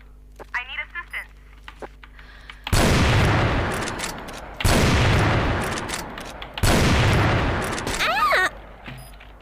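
Bursts of automatic gunfire in a shooting video game, three loud sustained volleys each lasting about two seconds, preceded by short electronic beeps, with chirping tones near the end.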